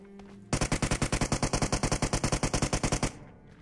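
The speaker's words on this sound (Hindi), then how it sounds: "अब यहाँ पर मेरा टीममेट फायरिंग करके इनका ध्यान बटाता है" Rapid automatic gunfire from a teammate in a multiplayer shooter video game, a loud, steady burst of about twenty evenly spaced shots lasting over two seconds, with no talk over it.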